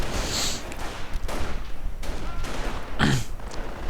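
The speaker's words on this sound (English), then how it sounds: "a pressure volley from the Panzergrenadiers, rather reminding them to keep their goddamn heads down" In a war strategy game, Panzergrenadier infantry fire a rifle volley as a ragged cluster of sharp cracks and pops, with one louder burst near the end over steady battle noise.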